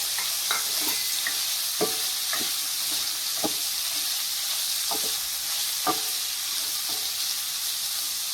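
Pieces of sour-sweet star fruit fry in a pan with a steady hiss and sizzle, punctuated by light clicks and taps of stirring spread evenly throughout.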